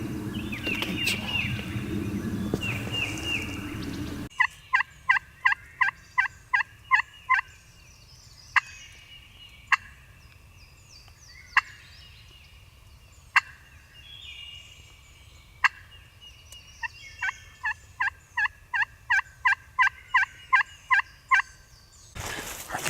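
Wild turkeys gobble over and over from across the woods, sharp rattling bursts that arrive in quick runs, sometimes overlapping, with short quiet gaps between them.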